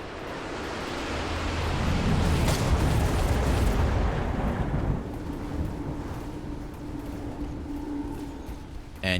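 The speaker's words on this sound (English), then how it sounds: "look at the lightning storm there, getting rid of all the Phoenixes" Lightning storm strikes from the strategy battle game Mechabellum, a loud rumbling roar that swells over the first few seconds and then eases into a sustained lower crackle and hum.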